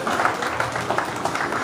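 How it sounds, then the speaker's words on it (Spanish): A crowd at a painting exhibition opening applauds, a brief burst of scattered clapping at moderate volume. "un aplauso para Ángel"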